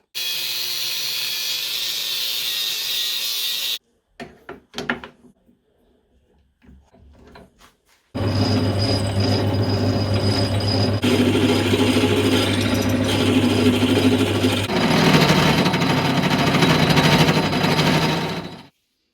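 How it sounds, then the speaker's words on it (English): Metal lathe turning a steel ball for the end of a bench vice spindle shaft: a steady mechanical whir and hum with a brief pause and scattered clicks partway through before the machine runs on continuously. "it's now time to move on to making another ball for the end of this spindle shaft. To the lathe!"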